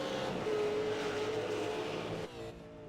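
A V8 Supercar engine roars at high revs as it races at Zandvoort in iRacing, a sustained loud buzzing drone that drops abruptly near the end as the car lifts off.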